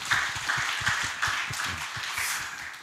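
Audience applause at a regional startup ecosystem summit panel talk in Daejeon, a short burst of scattered hand clapping with irregular claps over room noise, fairly faint and without talk.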